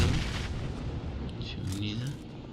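Bombs drop and detonate in the video game PUBG Mobile, a series of muffled booms and gunfire-like blasts rolling on under a voice talking.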